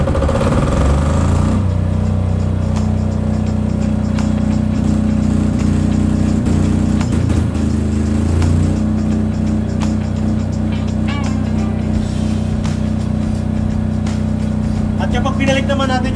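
A PK20KW 25KVA standby generator engine cranks and settles into a steady, loud, close hum after the main power is pulled, with a person talking over it.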